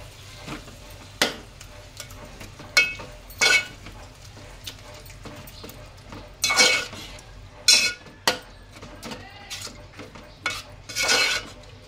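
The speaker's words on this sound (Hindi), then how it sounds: "दही डाल के अच्छे से इसे मिक्स करेंगे हम।" Yogurt is stirred into beef biryani in a pot with a metal spoon, the scrapes and clinks coming in irregular bursts over a faint sizzle, close and without speech.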